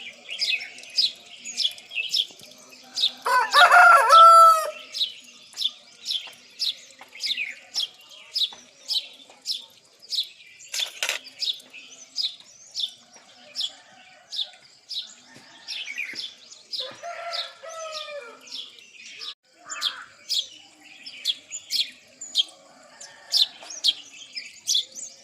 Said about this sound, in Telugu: చుట్టూ వాతావరణం అండ్ పక్షుల సౌండ్ ఒక్కసారి వినండి న్యాచురల్గా